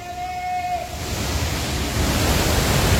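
Thoseghar waterfall near Chalkewadi gives a dense, constant roar of falling water, loud and close, mixed with gusty wind rumble on the microphone.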